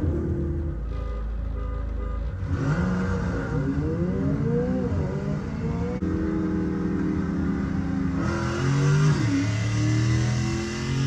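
An 1100 rwhp Dodge Hellcat drag racing a McLaren 720, with loud engines revving and accelerating hard, pitch sweeping up through gear changes, a deep roar throughout and a brighter surge near the end.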